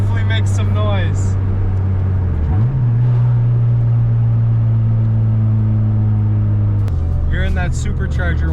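A supercharged car on a dyno holds a loud, steady low engine drone after a rising rev, with a whining tone on top; people talk over the start and end.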